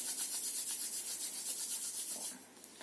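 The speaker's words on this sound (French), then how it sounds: "on frotte les reins." Hands rubbing briskly over the lower back at the kidneys, a soft, close, rhythmic swishing of quick regular strokes that fades slightly at the end, with no one talking.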